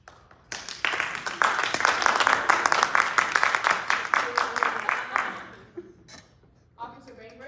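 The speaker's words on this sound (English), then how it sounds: "They're gonna clap for the person that they think is the murderer." An audience at a high school drama production claps to vote, a dense burst of applause building quickly, holding for several seconds, then thinning into scattered claps and a few voices.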